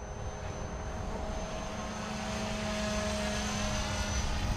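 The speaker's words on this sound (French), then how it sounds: "J'adore l'hélicoptère pour ça, un vol hard." A small Blade 360 CFX model helicopter whines steadily at a distance, its rotor buzz and high motor tone holding level with a slight rise.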